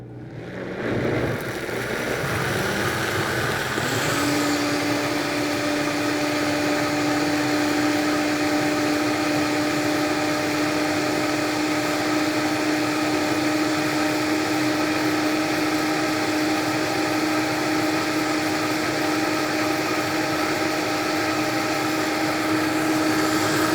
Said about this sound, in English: we're going to go ahead and blend this